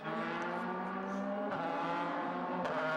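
A DTM race car at Hockenheim in 2003, Christian Abt's car after running off the track and rejoining, engine droning loud and steady in a sustained harmonic whine with slight shifts in pitch, plus light tire noise.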